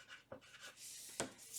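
A pen writes a name on paper, quick faint scratchy strokes up close, with a couple of sharper taps as letters are finished.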